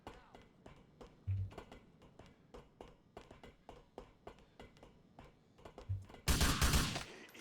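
Rapid AK rifle gunfire in GTA IV, a fast stream of sharp shots at crazy speed fired by crouch-toggling, with a louder burst of blasts near the end and a voice talking intermittently.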